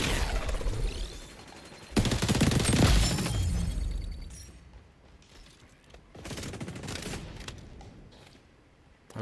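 Automatic gunfire in the shooter XDefiant, a loud sustained burst followed by scattered shots and impacts, with some game effects and no speech.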